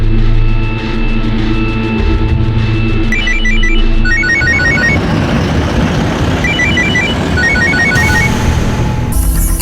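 An electronic telephone ringtone trills in repeated bursts during a tense crime drama scene, loud and close over a busy background noise bed.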